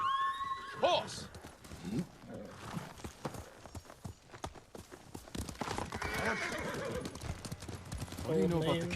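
A horse in the Ghost of Tsushima video game whinnies loudly near the start, followed by steady clip-clop hoofbeats mixed with game sounds and a few quieter whinnies later on.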